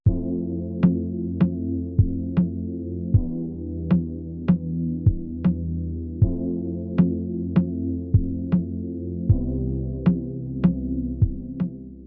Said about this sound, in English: It is the 40 soft keys, and it sounds like this.